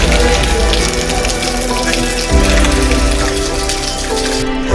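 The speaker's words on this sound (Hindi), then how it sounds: "कलकल बहते पानी की आवाज मन को मोह लेती है।" Water babbling and flowing steadily at a forest pilgrimage site, a loud, continuous wash close by with no talk over it.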